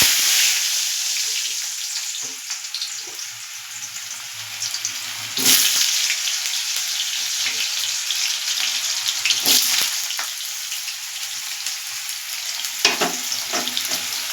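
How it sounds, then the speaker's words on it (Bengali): Potatoes frying in hot oil in a wok after black cumin tempering, a steady loud sizzle and crackle throughout with a few sharp stir or clatter bursts, no voices. "এবার আমি আলুগুলো প্রথমে হালকা লাল করে ভেজে নেব।"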